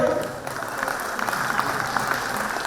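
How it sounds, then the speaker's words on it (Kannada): An audience applauds steadily at a teachers' award ceremony, a dense, even wash of clapping that holds without breaks throughout. "ಜೋರಾದ ಒಂದು ಚಪ್ಪಾಳೆ"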